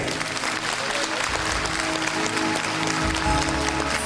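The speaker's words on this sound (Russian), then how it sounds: "поздравить нашего юбиляра громкими аплодисментами" Loud, dense applause from a concert audience celebrating the 25th anniversary of the rhythm-ballet troupe Grande, filling the hall steadily and evenly from start to finish.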